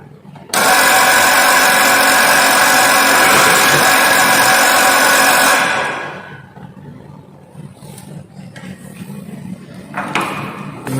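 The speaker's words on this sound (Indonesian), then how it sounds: "kita nyalakan ticker timernya dan biarkan" A ticker timer buzzes loudly and steadily for about five seconds as a lab trolley rolls in a Newton's second law experiment, then stops abruptly, leaving faint room noise and a few soft knocks.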